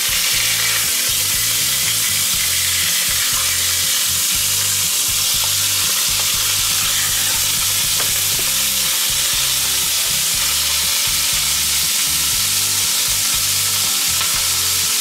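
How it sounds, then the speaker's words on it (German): Loud, continuous sizzling and crackling of chicken frying in hot oil, with a constant low whirring hum from a kitchen extractor hood running underneath the whole time. "wir tun jetzt hier unser Hähnchen im Öl etwas anbraten"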